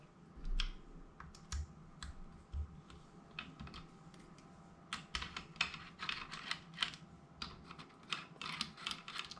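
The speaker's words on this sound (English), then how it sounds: "Undo the two screws you have here on top." Two small 3 mm screws being undone on the cheek piece of an FX Maverick air rifle, heard as a close, quiet run of rapid ticking clicks and light taps from a hex key, with no talk.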